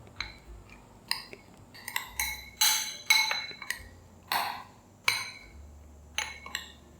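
Eggs seasoned with salt and pepper being beaten in a bowl for a Korean street toast, a run of sharp utensil clinks and taps against the bowl at an uneven rhythm, close and fairly loud with no talking.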